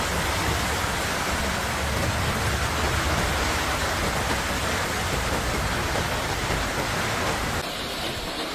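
Heavy typhoon rain pours steadily over Yilan, Taiwan, a dense, unbroken hiss of downpour that stays loud and even throughout, easing slightly only in the final second, with no voices.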